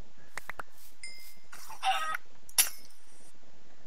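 Chickens in a Minecraft UHC match give a few short, faint clucks in quick succession, mixed with scattered game effects against a quiet background.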